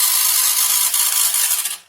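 A modified motor in an RC 4x4 car runs with a loud, high, buzzing whine that holds steady for about two seconds and then cuts off abruptly.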